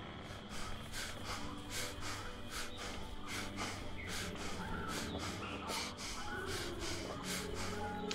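A character in Dead Island pants heavily and rhythmically, with repeated harsh breaths in a steady run over continuous game background noise, close and fairly loud throughout.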